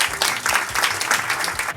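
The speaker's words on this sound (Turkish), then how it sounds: "İyi günleri de bir alkışlayalım." A quiz night audience breaks into applause, a short burst of many hands clapping quickly and close together that stays loud for under two seconds.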